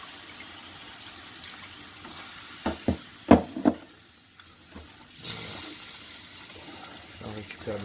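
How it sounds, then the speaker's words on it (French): Water hits a hot pan of spiced sautéed veal to deglaze it. Scattered stirring knocks and scrapes come first, then a loud hissing sizzle takes over. A voice is faintly heard underneath. "Et là maintenant, après on déglace à l'eau."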